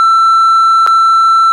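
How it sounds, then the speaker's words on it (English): A steady, loud electronic sine-tone censor beep holds unbroken over a bleeped-out conversation, with a brief click partway through. "Matt, beep out this conversation."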